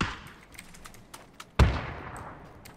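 Gunfire in the video game PUBG: one loud, close shot with a sharp crack and a short fading tail, set among scattered fainter clicks and distant pops.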